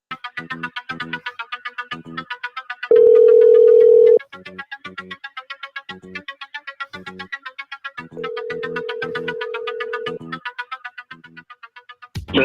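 A telephone placing an outgoing call: repeated short double-ring tones in a steady rhythm, interrupted twice by longer flat electronic tones, clear and close with no talking.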